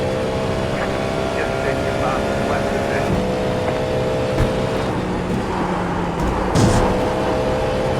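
Race car engine droning steadily on the Road Atlanta circuit during an IMSA Petit Le Mans session, a loud sustained in-car tone with a brief surge near the end, voice talking over it.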